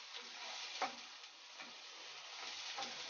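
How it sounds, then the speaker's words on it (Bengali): Chopped onions frying in oil, a soft continuous sizzle with faint occasional stirring taps, quiet and without voices. "এখানে তেল দিয়েছি আর কুচানো পেঁয়াজ"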